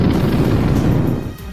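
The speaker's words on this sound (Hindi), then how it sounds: "एक के बाद एक ताबड़तोड़ धमाके कर दिए" Explosions from a bombardment in Gaza sound as a loud, dense, low-heavy rumble that roars steadily for over a second before easing off slightly.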